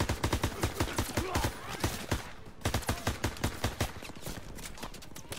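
Dense rapid gunfire in Call of Duty: WWII, a World War II shooter, with overlapping automatic bursts rattling almost continuously and a short lull midway before the shooting resumes.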